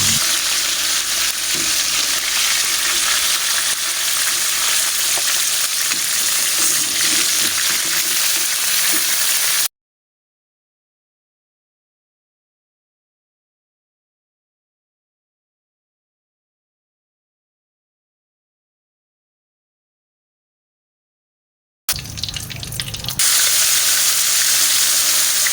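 Pieces of lamarang fish fry in a pan before going into a coconut-milk adobo, a loud dense crackling sizzle that cuts off into complete silence for about twelve seconds, then returns just as loud.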